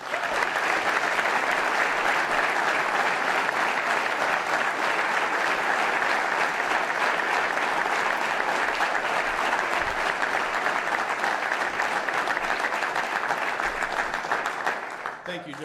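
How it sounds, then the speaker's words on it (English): A large audience claps continuously to welcome a Wounded Warrior Project veteran onto the stage, a dense, loud, even wash of applause that carries on steadily and fades slightly at the very end. "Please welcome him with a round of applause."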